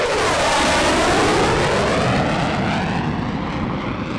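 An F-15 fighter jet roars loudly at a military airshow, a dense, sustained engine blast that shifts in pitch as it sweeps past close by.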